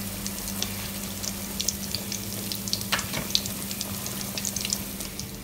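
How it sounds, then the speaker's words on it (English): Salt fish codfish balls frying in hot oil, a continuous close sizzle with crackling pops and a low steady hum underneath, no voices. "when we're finished frying them"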